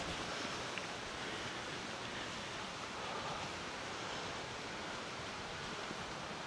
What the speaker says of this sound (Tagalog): Rinig na dito yung lagaslas ng tubig.